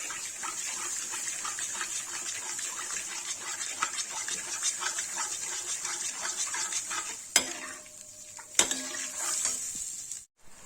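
Red chili is stirred into a simmering Kashmiri dum aloo curry, producing a bubbling, wet sizzle with rhythmic stirring strokes, followed by a few sharp metallic knocks on the pot and a sudden cutoff.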